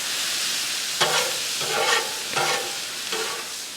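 Beef, onions and mushrooms sizzle in a pan under a constant hiss, while a utensil stirs them in four distinct scraping strokes spaced about half a second apart.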